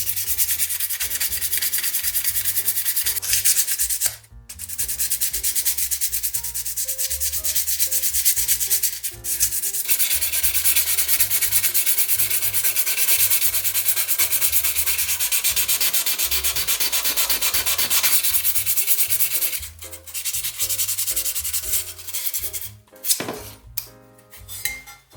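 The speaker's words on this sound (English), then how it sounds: "I start by sanding the bodywork with 400 grit sandpaper." 400 grit sandpaper rubs back and forth across the metal body of a Lancia 037 scale model car, a steady, close, gritty scrape with brief pauses between long sanding runs.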